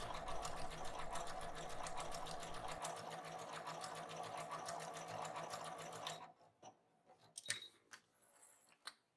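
A sewing machine stitches overcast seams with an overcast presser foot, a fast steady needle rattle running for about six seconds before stopping, followed by a few light clicks and taps nearby.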